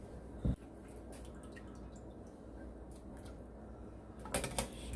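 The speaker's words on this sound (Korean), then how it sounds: "물이 끓기 시작합니다." Water in a pot for mugwort rice-cake soup begins to boil, with faint scattered ticks and small popping bubbles over a low hiss and a few sharper clicks at the start and end.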